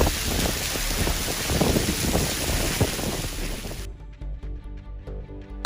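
A hail storm in Arkansas pours down as a dense, steady clatter with rumbling wind for several seconds, then abruptly thins into sparse, separate sharp impacts near the end.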